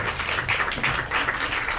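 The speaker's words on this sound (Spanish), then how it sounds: "Bueno, pues démosle un gran aplauso a las compañeras de Stop Motion." Audience at a stop-motion animation workshop applauding, a fairly steady wash of clapping with gentle swells, heard alone for about two seconds.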